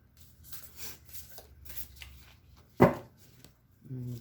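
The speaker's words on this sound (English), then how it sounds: "these cards are kind of thick and my hands are little, so it's kind of hard to shuffle them" Thick oracle cards from a Mystical Shaman Oracle Deck are shuffled by small hands: soft papery rustling bursts with a single sharp snap near the end, followed by the start of a voice.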